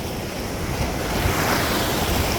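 Sea waves wash steadily onto the Somnath shore beside the temple, a continuous loud surf roar mixed with wind buffeting the microphone, with no voices.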